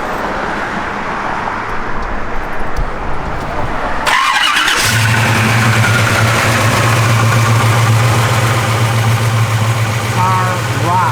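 A 1966 Chevrolet Chevelle SS engine idles, then a door or hatch shifts the sound and a low steady rumble settles in, constant and moderately close.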